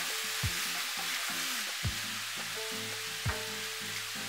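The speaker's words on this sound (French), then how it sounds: "Mélangez ensemble une bonne minute." Star anise, fennel seeds, cloves and Sichuan peppercorns stirred in a hot pan for Taiwanese beef noodle soup, a steady soft hiss broken by three dull knocks of the utensil, with no talking.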